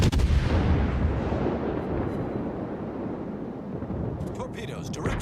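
Naval guns from a USS Omaha cruiser in World of Warships boom in a heavy opening blast that rolls into a long rumbling decay, with a few faint clicks toward the end.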